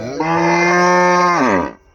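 A Jersey cow at a cattle market lets out one long, loud, close moo that rises, holds, then trails off, with no talk over it.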